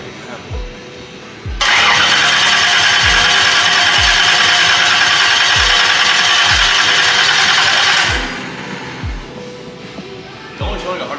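A race-shop car engine is cranked on its starter in a long steady whir of about six seconds, with rhythmic low compression pulses running underneath and a voice talking nearby before and after.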